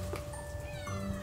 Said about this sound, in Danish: Den sorte kat er dog ikke så vild med nålen